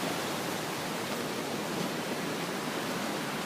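The Esteron river in flood roars over the Laty waterfall, a loud, dense, unbroken rush of water that fills the whole stretch without any voices.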